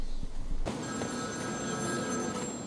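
A telephone rings in the video game Batman: Arkham City, a bright electronic trill that starts abruptly after a brief muffled stretch and keeps ringing steadily and loud to the end, with no one speaking.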